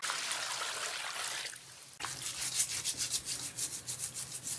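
Lamb trotters being washed and rubbed by hand under running water, a close, steady trickle and wet scrubbing with rhythmic rubbing pulses toward the end.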